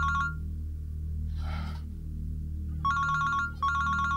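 A telephone ringing in a home with a tea scene in a Pakistani drama: warbling electronic rings in bursts separated by pauses over a low musical background, with a brief breathy sound between rings.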